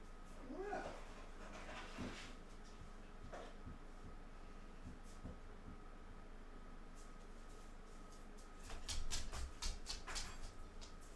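A dog whimpers and pants softly indoors, faint and intermittent, with a few light clatters and a louder burst of rustling near the end.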